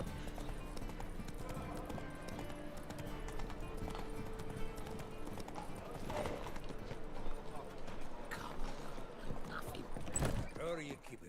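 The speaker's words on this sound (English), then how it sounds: "Run, Roach" Hoofbeats from the horse Roach galloping in The Witcher 3, a steady clip-clop running continuously under in-game music and ambience, with speech heard over it.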